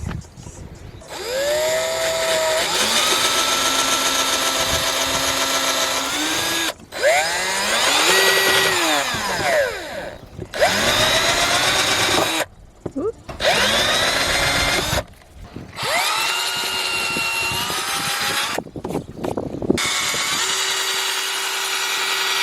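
A power drill whines loudly and close in long sustained bursts, pitch rising and falling with load, with short pauses between runs.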